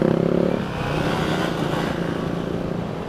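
Hartford Diablo 650 motorcycle with the throttle twisted, its engine pulsing hard for half a second before settling into a sustained droning run over wind noise, close and loud.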